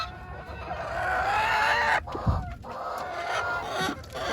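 Backyard hens cluck and murmur close by in a morning garden coop, a busy run of throaty calls with a short squawk midway.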